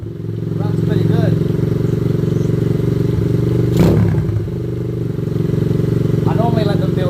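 A Chinese motorcycle engine runs at a loud, steady idle close by, its even throbbing hum broken by one sharp clatter midway, while brief bits of speech come through.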